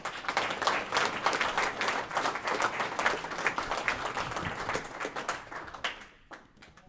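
An audience applauding in a symposium hall as a speaker is welcomed, dense steady clapping from many hands that tapers off near the end into a few scattered claps.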